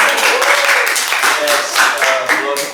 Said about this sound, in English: Okay, give a clap for us.